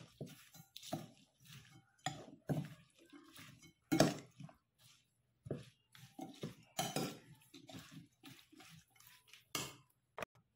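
A spoon mixes a green chili, ginger and garlic pickle with oil in a bowl, making soft, scattered clinks and scrapes with quiet gaps between them.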